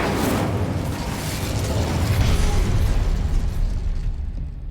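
The Incendio fire spell is cast in a Harry Potter video game as a continuous loud roaring, bursting blast of flame and magic that fills the whole span and fades slightly at the end.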